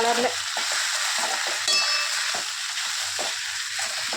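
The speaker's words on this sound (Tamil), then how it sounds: "இப்போ கொஞ்சம் நல்லா கலரி விடணும்" Dried red chillies, chana dal, urad dal and onion fry in oil for idli upma, a loud, close sizzle broken by rhythmic scraping strokes of a spoon stirring the pan.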